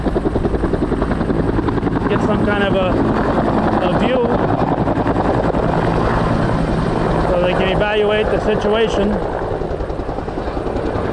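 A reconnaissance helicopter flies over the Altona Flat forest fire, its rotor throbbing loudly and continuously throughout while someone talks over it.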